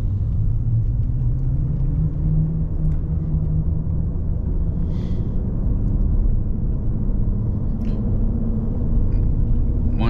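Steady low road rumble from mud tires on a lifted Ram 1500 pickup with a 9-inch lift, heard from inside the cab as a constant droning hum, loud and unbroken, with only faint clicks on top.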